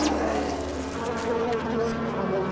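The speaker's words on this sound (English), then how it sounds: "Little wasps." Swarming wasps buzz in the Nox video game's Dismal Swamp, a steady, close insect drone that wavers slightly for the whole stretch with no break.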